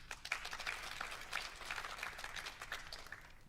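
A faint scatter of audience clapping at the live 92nd Academy Awards Oscar nominations announcement, soft irregular hand claps spread over a few seconds at a distance.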